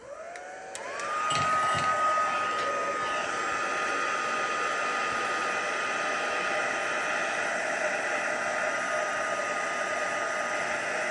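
A hair dryer blows on a wet stamped card, starting with a click and rising whine, then holding a loud, steady, close airy roar to the end.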